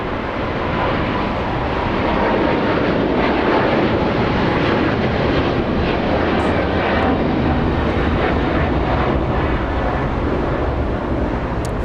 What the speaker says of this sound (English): we also have a quadjet Lufthansa